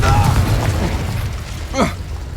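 An explosion spell cast in a Harry Potter video game: a loud, close boom and burst with crackling debris and a sharp rising sweep near the end, while a voice speaks over the start.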